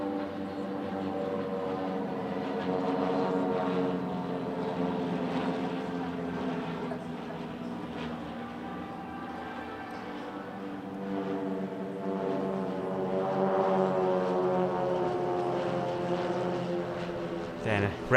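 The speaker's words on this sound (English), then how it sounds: "It's followed by a quartet of T-260Bs." Four T-260B propeller trainer aircraft flying past at an Italian Air Force centenary airshow, a steady layered engine drone with harmonic propeller tones that swells and fades over about eighteen seconds.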